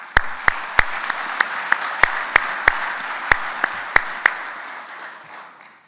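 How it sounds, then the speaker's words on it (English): Conference audience applauding at an automotive dealership buy-sell summit, a steady bed of clapping with sharp individual claps standing out, fading away over the last second or so. "I just want to give them a round of applause on their success."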